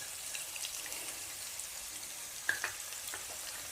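Onions frying in a pan for quail gravy, a faint, even sizzle with a couple of soft spattering pops partway through, no speech.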